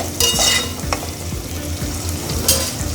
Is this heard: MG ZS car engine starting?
no